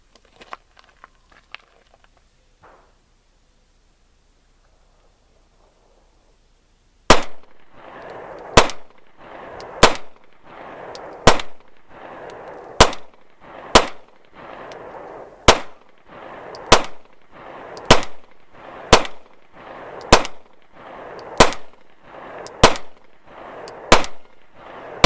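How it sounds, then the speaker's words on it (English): A Smith & Wesson M&P .40 pistol fired outdoors through a full magazine: about fifteen loud, sharp shots in a steady, fairly quick rhythm, each with a short ringing tail, after a quiet stretch of small handling noises. "I'm going to go ahead and run through this magazine"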